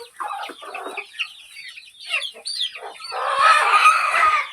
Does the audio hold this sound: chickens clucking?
yes